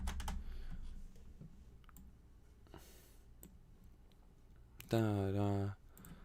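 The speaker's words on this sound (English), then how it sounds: "I'm going to type go time, question mark." Light computer-keyboard typing in a Discord chat clicks faintly and sparsely in a quiet room. A short, loud tonal sound cuts in near the end.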